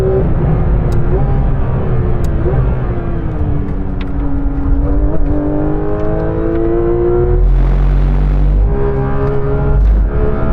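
A modified Porsche GT3 RS engine revs hard on a race track, its tone rising and falling through gears with a loud, sustained howl and a brief rougher burst near the end.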